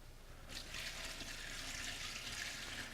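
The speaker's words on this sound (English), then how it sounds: "go in with about 2 gallons of water" Roughly two gallons of water poured from a tap into a chicken stock pot holding rosemary, thyme and parsley, a steady hissing, splashing fill that starts after a brief quiet moment and runs on evenly and close.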